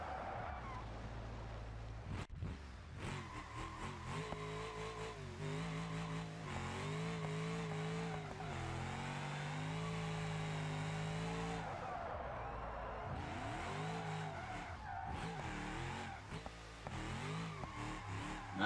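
A car drifts sideways through reverse entries in BeamNG.Drive, its engine revving loudly and steadily and its pitch rising and falling with each slide, with tire noise running under it the whole time.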